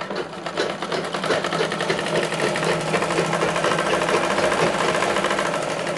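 A sewing machine runs steadily while stitching a katori blouse, a close, continuous whirring hum with rapid regular needle ticks throughout.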